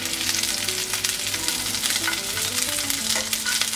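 Taki fish sputter and crackle in hot oil in a kadai, a dense close sizzle with constant popping, while background music with a melody plays underneath.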